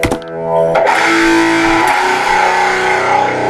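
An electric guitar runs through a Stiff Hippy II overdrive pedal with distortion cranked all the way. A couple of struck chords open, then one thick, fuzzy, heavily saturated chord rings on loud and sustained.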